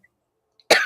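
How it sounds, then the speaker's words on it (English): A single sharp cough bursts out near the end after near silence, loud and close. "oh, I have to cough."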